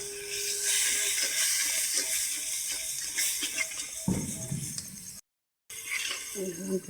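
Broth is poured into a hot fried spice mix of ginger, garlic and turmeric, giving a sudden sizzling hiss. It comes partway through, with a voice talking and utensils clinking around it.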